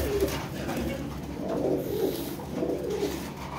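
A pigeon cooing repeatedly in soft rolling phrases at close range, over a low steady background hum with no one speaking.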